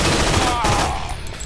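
Rapid gunfire fills a video game firefight, a loud sustained fusillade of overlapping shots with no pause across the moment.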